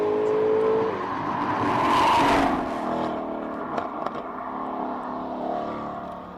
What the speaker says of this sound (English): Sounds like the Mustang was stabbing on the throttle there a little bit through the S's.